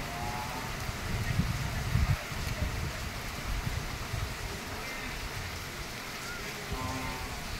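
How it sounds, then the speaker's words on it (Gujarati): Heavy monsoon downpour in Madhupur, Gir, a constant broad wash of rain with a few low rumbles early on and no voices. "વીજળી ગાજવીજ સાથે ધોધમાર વરસાદ."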